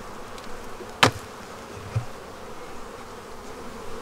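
Honey bees buzz steadily at an open hive during a backyard hive inspection, a dense continuous hum with a few louder close passes, including one sharp near burst.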